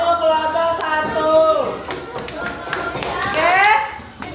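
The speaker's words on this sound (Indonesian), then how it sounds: "beri tepuk tangan untuk kelompok 1" A classroom group of students receives applause, with scattered hand claps and taps mixed with lively children's voices and chatter nearby.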